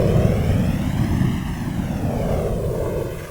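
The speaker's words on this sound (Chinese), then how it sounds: "使用 Fanger 效果，将电流声、吹气声变成涡轮发动机" Microphone hiss and breath noise run through a flanger effect, producing a continuous sweeping whoosh like a turbine engine, loud and steady throughout with no talking.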